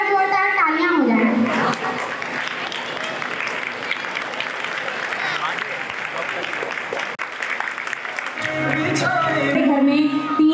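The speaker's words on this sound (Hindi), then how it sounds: "मैं आप लोगों से गुजारिश करूंगी कि प्लीज एक बार आप सब खड़े होकर इन माँओं को सलाम पेश करें और एक बार जोरदार तालियां हो जाएं।" A school annual function audience claps for the mothers in a long, dense round of applause, with a voice speaking over the start and end.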